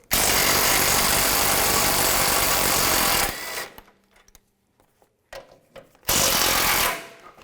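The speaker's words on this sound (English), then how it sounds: "now we're going to take these 2 nuts off, right there and right there. Use a 15mm socket" Impact gun with a 15mm socket spinning nuts off the power steering cooler of a 2007-16 GMC Acadia, a loud, harsh rattling burst for about three seconds, then a near-silent pause with small clicks, then a second loud burst.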